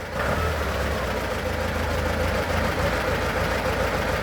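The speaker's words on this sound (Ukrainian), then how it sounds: "Ось так піднімається навіска." A T-40 tractor engine runs steadily and loudly nearby while raising its hydraulic hitch, a continuous rumbling drone with a mechanical strain as it works.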